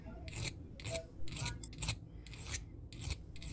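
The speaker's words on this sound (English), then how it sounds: "filing off the various flash that's on the part" Steady rasping strokes of a hand file removing flash from a metal casting for a model steam engine eccentric, about eight even back-and-forth passes, close and clear with no talking.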